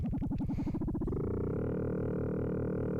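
An Endorphin.es Furthrrrr Generator's pulsing sine tone morphs into a buzzy, metallic frequency-modulated drone with a gritty, rapidly fluttering texture, sustained and fairly loud with no voices.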